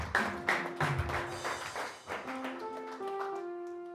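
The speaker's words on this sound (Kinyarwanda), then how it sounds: "komera Imana amashyi menshi cyane" A church congregation claps together, a burst of taps and applause in the opening seconds, mixed with sustained musical tones and singing that carry on and grow steadier toward the end.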